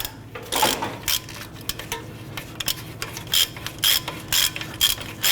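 Ratchet spinning off the upper strut nut on a Honda Pilot, with quick clicking strokes close up, then a series of evenly spaced ratcheting bursts.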